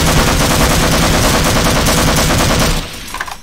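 Sustained automatic gunfire from the Half-Life: Source video game, a loud continuous rattle of rapid shots that stops near the end, leaving a few faint scattered sounds.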